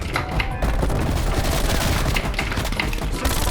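Sustained loud automatic fire from a MAC-10 submachine gun in Call of Duty: Black Ops Cold War, dense close rattling with layered booms and impacts running throughout.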